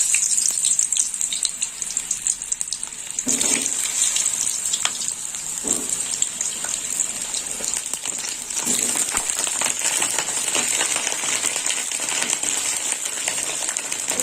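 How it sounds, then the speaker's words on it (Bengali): Halved pieces of pointed gourd (potol) fry in hot oil with a steady, bright sizzle. Louder crackling bursts come near 3, 6 and 9 seconds as more pieces hit the oil. No one speaks. "এবার তেল গরম হয়ে গেছে, পটলগুলো আমি ভেজে নেব।"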